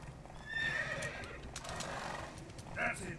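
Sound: horse Roach galloping in video game The Witcher 3

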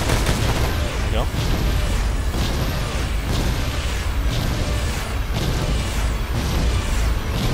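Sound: enemy gunfire in video game Battlefield 2142

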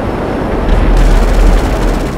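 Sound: explosion and gunfire in Grand Theft Auto 5 video game

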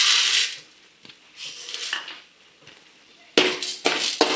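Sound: chana dal and urad dal added to frying pan

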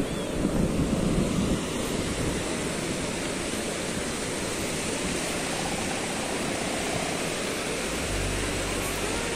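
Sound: waves on Serang Beach, Blitar

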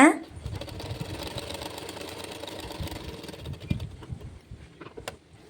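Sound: sewing machine stitching a blouse hem

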